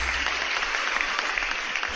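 Applause sound effect played on a podcast, a steady dense wash of clapping filling the short stretch without pause, fairly loud and alone.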